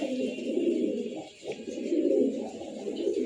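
A male racing pigeon with seal number four coos in a steady, unbroken low rumble close by, the sound swelling and easing with only one brief dip midway.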